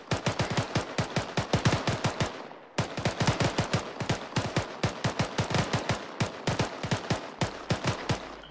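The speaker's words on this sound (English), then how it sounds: "Teruskan menembak, cover fire" Rapid bursts of automatic gunfire from the military shooter Arma during covering fire, loud and close, with sharp repeated shots in dense strings, a brief pause near three seconds, then continuous firing again.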